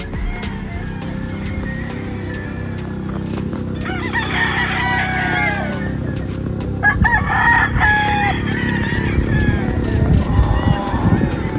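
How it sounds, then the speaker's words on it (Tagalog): Roosters crow loudly over a constant din of clucking hens, with a steady low background hum and busy flock noise throughout. "Dami manok."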